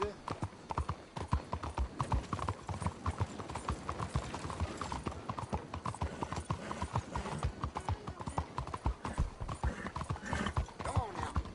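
A horse gallops in Red Dead Redemption 2 with rapid, close, loud clip-clopping hoofbeats in a steady driving rhythm for the whole stretch, with a brief whinny-like sound mixed in.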